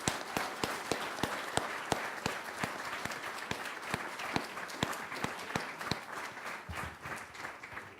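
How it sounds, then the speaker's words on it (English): A conference audience applauds steadily, many hands clapping in a dense, continuous patter that holds at an even level throughout. "let's give Jan a round of applause"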